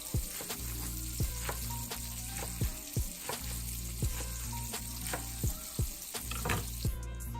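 Steady, loud sizzling and crackling of sausage frying in a hot pan, with irregular pops and occasional stirring scrapes.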